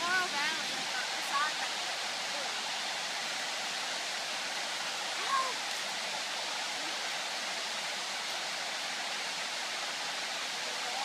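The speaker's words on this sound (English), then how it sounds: "we're up above the falls that we're seeing next to the lake" A waterfall on Laurel Fork Creek near Lake Jocassee gives off a steady, even rush of falling water, heard from above the falls as a constant broadband hiss with no breaks.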